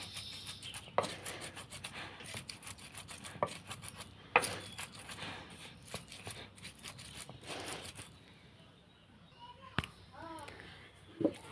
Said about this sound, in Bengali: এখন দেখুন এটা আমি বেটে নিচ্ছি